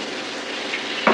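Fish fry in plenty of oil with a steady, close sizzle, and a brief clatter near the end. No one speaks.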